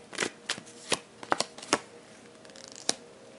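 Tarot cards being shuffled, a handful of crisp riffles and snaps spaced irregularly, with softer card rustling between them and no talking.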